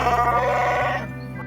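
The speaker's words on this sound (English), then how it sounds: "You might know him as the wonderful hairy Wookiee who becomes a rebellion hero and sidekick of Han Solo" Chewbacca's Wookiee roar from Star Wars, a short, loud, nasal bleating growl with a rough warble that fades out after about a second.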